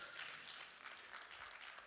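Audience applause at a job fair prize moment, a brief, faint and steady patter of clapping heard from a distance with no speech over it.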